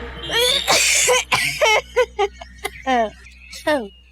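Someone coughs loudly several times in harsh bursts, mixed with voiced gasps and throaty sounds, close to the listener.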